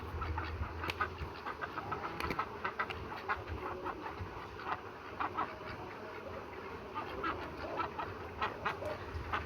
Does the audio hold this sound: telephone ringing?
no